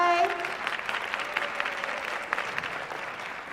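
Steady, dense audience applause mixed with snapping fills a multicultural graduation ceremony at EMU, beginning as a speaker's voice fades and holding at an even level throughout.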